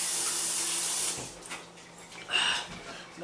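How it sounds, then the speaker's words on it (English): Water from a kitchen sink faucet runs loudly at first, then stops, followed by softer splashes and drips as hands are rinsed, close and brief. "let me rinse my hands off"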